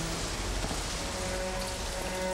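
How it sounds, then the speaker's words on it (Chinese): Steady rain pouring down in a dense, even hiss that stays loud and unbroken throughout, with no one speaking. "妈，下雨了"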